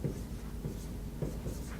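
A marker scrawls on a whiteboard during a tech talk about data storage. Soft, close strokes come in a few separated bursts over a low, steady room hum.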